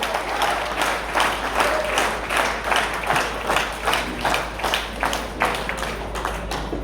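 Seminar audience at a cash flow quadrant training session breaking into loud, sustained clapping, with rhythmic bursts that carry steadily throughout.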